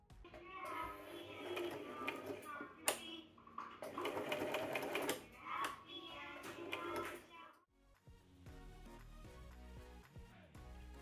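A sewing machine runs in bursts while stitching seams on a fabric pouch, loud and close with brief pauses between runs, then quieter mechanical clicks and soft handling noises after the machine stops.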